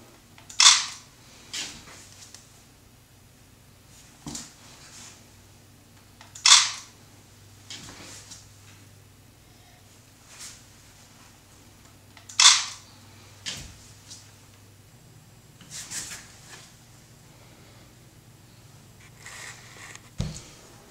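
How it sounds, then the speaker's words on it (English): A Panasonic TZ-1 compact camera fires its shutter for flip animation frames, sharp clicks spaced about six seconds apart with fainter handling taps and a low steady hum between them. "Make a small motion, fire the camera, and make sure everything stays steady."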